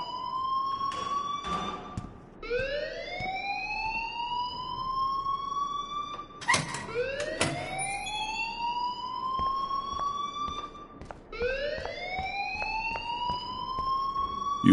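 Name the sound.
alarm ringing in the video game Life is Strange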